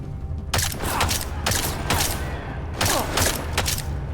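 Bursts of gunfire in Deus Ex, sharp repeated shots in short clusters spaced about half a second apart, loud and close over a low rumbling game background.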